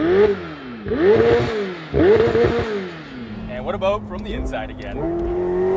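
McLaren 750S with a centre-exit exhaust revving up, its engine note rising and falling in several sharp bursts before settling into a steady drone, with a person talking over it.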